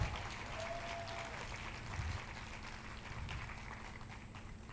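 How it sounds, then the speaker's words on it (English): An indoor crowd at a Black Pride heritage awards event in New York City gives a round of applause, a steady, fairly distant wash of clapping with a faint murmur underneath. "Give them one more round of applause."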